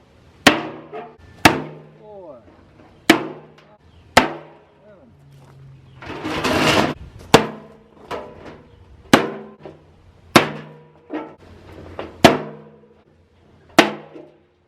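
A metal burn barrel is struck repeatedly as holes are poked into its side, giving about ten sharp, ringing metallic bangs at uneven intervals with a short scraping burst midway and a brief voice between hits.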